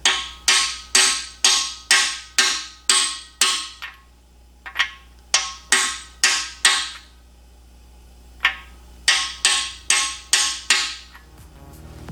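Repeated hammer blows drive a part into the cast iron block of a Ford 390 engine during a rebuild: bursts of several sharp metallic strikes in quick rhythm, separated by short pauses, loud and close with no talk.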